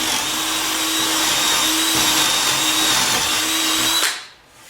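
A power drill fitted with a 1 1/16 inch Forstner bit bores into fence wood with a loud, steady whine that holds for about four seconds, then winds down quickly.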